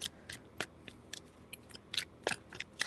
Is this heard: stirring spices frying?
no